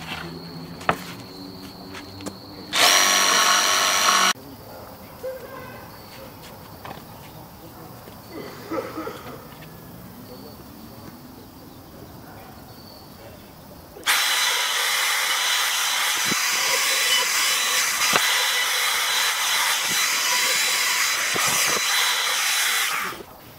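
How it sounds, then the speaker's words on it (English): Bursts of buzzing, rasping jigsaw cutting through a wooden longboard deck, a short burst early and a long steady cut later, with quieter shop noise and speech in between. "Now I'm just gonna simply cut it out with using my jigsaw."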